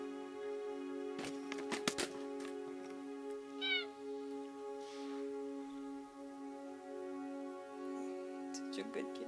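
Nestor the cat gives a few close meows, including one rising drawn-out cry, over a steady electrical hum while a person talks.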